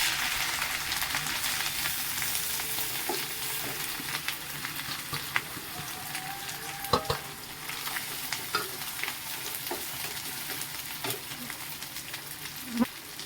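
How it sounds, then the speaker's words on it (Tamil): Grated coconut frying in ghee, a steady close sizzle with occasional spoon scrapes and taps against the pan, and brief faint speech in the background. "தேங்காய் அந்த அளவுக்கு பொரிஞ்சா போதும்."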